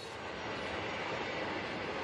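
Freight train carrying Challenger 2 main battle tanks, bridge layer and armoured repair vehicle variants and AS-90 self-propelled artillery rolls along the rails, a continuous loud rumbling roar of wagons heard up close, steady throughout with no voices.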